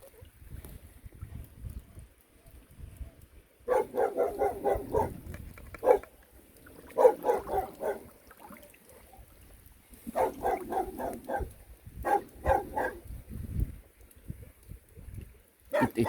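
A dog barks in several bursty runs of rapid, loud, close barks at a creek weir during eel fishing, with quiet gaps between and a voice now and then.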